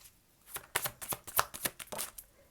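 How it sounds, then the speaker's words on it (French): Tarot cards are shuffled and drawn at a reading, a quick run of crisp riffling flicks and slaps close by after a quiet start, with no talk. "Alors je vais vous tirer une autre carte, c'est ce qu'on me dit."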